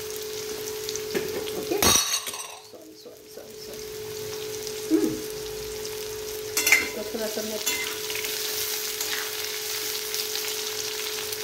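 Potato and carrot pieces fry in hot oil with panch phoron seeds, giving a steady sizzle broken by a few louder stirring scrapes and clatters near the start and middle, close and without voices.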